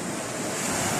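Waves surge against a seashore in a brief, continuous wash of broadband surf noise, mixed with wind rumbling across the microphone, steady and fairly loud.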